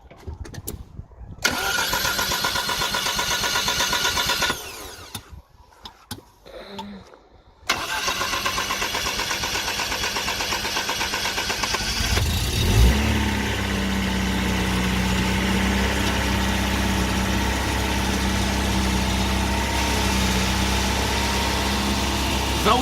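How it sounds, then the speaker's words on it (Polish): Quiet clicks and shuffling give way to a Lada 2107 engine cranking on a replaced starter and catching, then settling into a loud, steady idle that runs to the end. "zauważalnie zupełnie inny dźwięk odpalania"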